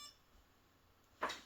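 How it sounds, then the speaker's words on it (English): An AM32 electronic speed control on a radio-control setup gives a single short beep near the end, after a quiet stretch of faint background hiss. "You hear it beeping."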